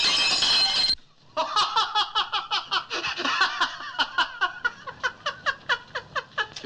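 A novelty prank gadget dropped on the floor mimics a window pane shattering with a short, loud crash. After a second's silence, bursts of rhythmic hearty laughter follow.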